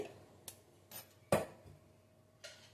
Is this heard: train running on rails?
no